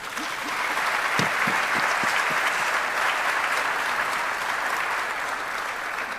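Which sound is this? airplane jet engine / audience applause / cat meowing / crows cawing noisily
audience applause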